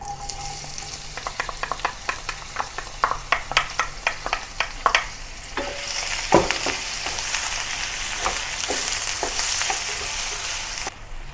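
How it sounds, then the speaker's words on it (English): Chopped onions are added to a pan of bubbling cumin seeds over low heat, giving a run of sharp crackles and stirring scrapes that settle into a steady, loud sizzle, with no talking. "Continue frying the onions until the onion turns soft"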